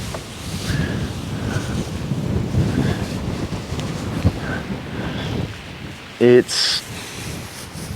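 Wind blows across a damp, rained-on hay field, a steady rumbling buffet on the microphone for the whole stretch, with a brief spoken word near the end.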